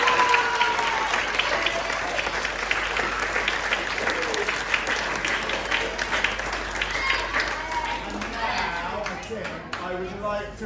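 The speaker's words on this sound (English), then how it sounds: "So please give a big round of applause." Sustained applause from a school audience at a student pantomime of Aladdin in Pattaya fills the hall, a thick wash of clapping with crowd chatter and cheers that gradually thins toward the end.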